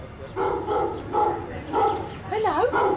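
An Alsatian dog barks repeatedly in a steady rhythm of about five loud, close barks, ending in a whining, whimpering yelp, with no talk over it.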